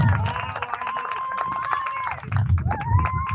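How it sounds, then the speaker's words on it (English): Applause and cheering from a crowd at a 2020-2021 middle school culmination ceremony as honor students are called, a steady wash of clapping with shouts and whoops rising and falling throughout. "Let's give them a round of applause as I call their name"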